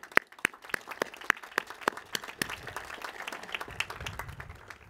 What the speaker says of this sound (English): So you deserve a round of applause.